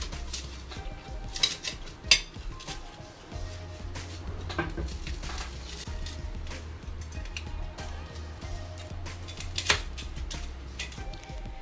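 Knife clinks and scrapes against a plate while a toasted cheese sandwich is sliced into four triangular pieces, a few sharp metallic taps over a low steady hum, fairly quiet and close.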